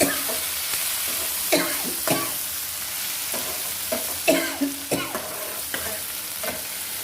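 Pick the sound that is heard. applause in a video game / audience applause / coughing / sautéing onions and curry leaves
sautéing onions and curry leaves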